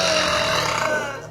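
A girl lets out a long, loud burp close up, one continuous rumbling belch lasting over a second and tapering off at the end.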